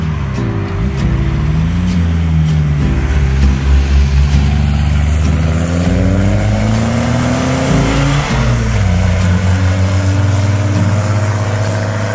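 A VW T3 Transporter van with a turbo diesel engine and air ride, driving: a loud, steady engine drone that rises and falls through the gears, heard from inside, with no talking.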